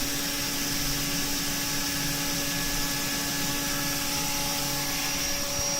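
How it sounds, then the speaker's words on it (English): A 3/16 3-flute finish end mill spinning at high speed on a machine shop mill, cutting slots with a steady, even whine and hum that holds at moderate loudness. "This is a finish end mill, finishing out those slots on the top"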